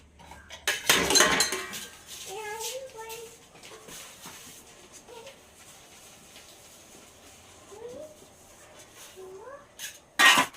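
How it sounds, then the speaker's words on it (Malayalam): Idli steamer pots and dishes being washed in a home kitchen: loud metallic clattering and clinking bursts at the start and again near the end, with quieter scraping, handling and faint squeaky tones between. "അപ്പോൾ ഇനി ഇഡലി പാത്രമൊക്കെ ഒന്ന് കഴുകണം"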